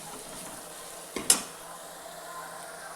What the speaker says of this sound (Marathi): ह्याला बारीक गॅसवर मस्त खरपूस भाजून घ्यायचं